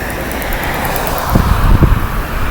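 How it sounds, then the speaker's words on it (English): Scooters and Vespas in small-town traffic, a steady low motor rumble with a couple of engines swelling briefly as they pass nearby, loud and continuous with no talking. "Lots of scooters, lots of Vespas."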